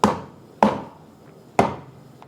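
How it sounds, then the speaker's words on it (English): Three sharp, hard thuds of a kitchen mallet crushing two garlic cloves on a board, spaced irregularly with brief ringing decays and quiet gaps between blows. "while I've got the mallet out, I'm just gonna crush my 2 cloves of garlic as well"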